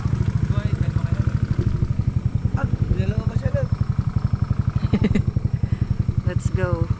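Motorcycles ride toward town, their engines putting out a close, rapid, steady throb, with brief faint voices over the engine noise.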